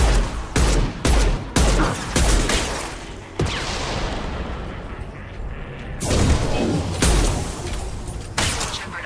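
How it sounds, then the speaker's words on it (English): Heavy weapon gunfire in the Mass Effect video game, loud booming shots fired in rapid bursts with rumbling echoes trailing between them and a louder volley near the end. "Heavy weapon. Firing a high-impact shot!"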